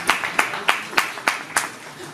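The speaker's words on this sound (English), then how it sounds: "Huge round of applause, please." An audience at a Mumbai Fest announcement event claps in an even, rhythmic beat, with about seven sharp claps in quick succession close by.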